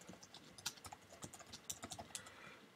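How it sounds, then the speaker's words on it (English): Typing on a computer keyboard, a quick irregular run of soft key clicks, close and fairly quiet, with no voices. "So basically, I'm just going to type in some words here."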